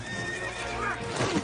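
Nearby, a horse gives a whinny while hooves clip-clop on the ground, in a brief, moderately loud burst.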